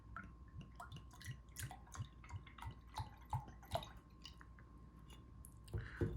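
Homemade ginger beer, on its first day of fermenting, is poured from a bottle, giving a series of soft rhythmic glugs and drips, quiet and close, ending with a slightly louder splash.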